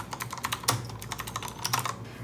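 Steady, brisk typing on an Azio Retro Compact keyboard, rapid close key clicks in an even rhythm with a few louder strokes, no voices.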